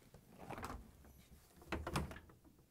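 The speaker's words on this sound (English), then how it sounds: "To get to the part, we need to open both French doors." Two refrigerator French doors on a Whirlpool/KitchenAid/Maytag fridge swing open one after the other, each with a soft seal release and rattling thump, quiet and close in a kitchen.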